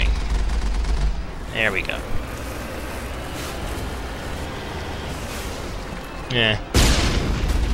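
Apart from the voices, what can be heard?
gunfire in Mass Effect video game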